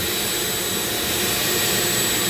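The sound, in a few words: Dremel rotary tool grinding while carving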